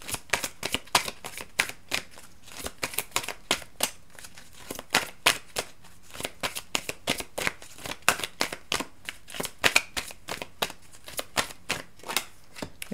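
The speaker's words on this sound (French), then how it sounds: "Et on va tirer la carte." A deck of tarot cards is shuffled over and over, a fast run of crisp riffling snaps with brief pauses between bursts. The sound is close and clear, with no talking.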